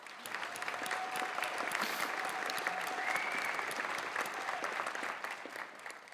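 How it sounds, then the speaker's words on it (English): Steady applause from a sizable luncheon audience at a sports hall of fame event, continuous and fairly even for several seconds, with a faint whistle or cheer rising above it. "Please give her a round of applause."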